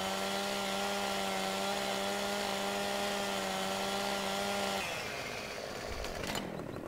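Chainsaw engine from the video game Farming Simulator 15, a steady loud idle drone that shifts into rougher, revving cutting noise near the end, with no talking.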